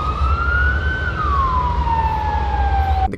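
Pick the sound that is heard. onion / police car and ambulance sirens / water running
police car and ambulance sirens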